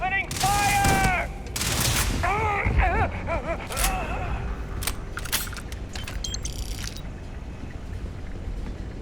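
Rapid bursts of gunfire in the space RPG Starfield on Xbox Series X, sharp cracks repeating over several seconds beneath a tense, tonal game score, with loud impacts and clatter near the start.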